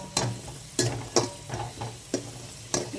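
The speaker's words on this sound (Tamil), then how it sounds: "நெய் சூட்டோடு போட்டோம் அப்படின்னா பாருங்கள் நல்லா வந்து இந்த கிரேப்ஸ் எல்லாம் குட்டு புட்டு ஆகிடும் லைட்டாக நமக்கு வந்து வறுபட்டுரும்" Raisins and cashews frying in hot ghee, with a soft sizzle punctuated by about half a dozen sharp pops and stirring clicks at irregular intervals.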